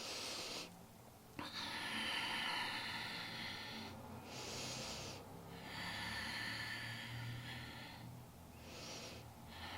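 Slow, deep breaths are drawn in and pushed out during a seated shoulder stretch, the head pressed toward the right shoulder; several long, soft hissing exhalations come close to the mic.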